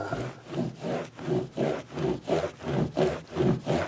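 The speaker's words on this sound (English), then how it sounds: "just rub this neck really good and clean that off of there. And this shines up the frets." A guitar neck and its worn frets are rubbed and polished by hand, giving steady back-and-forth scrubbing strokes, about eight even passes, close and fairly loud with no talk.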